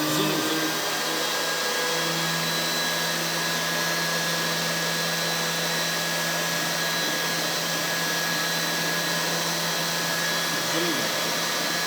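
An air blower runs in a heat transfer lab setup, controlled by a dimmer and feeding a manometer, producing a continuous loud whirring drone with a steady hum that persists unchanged for the whole stretch.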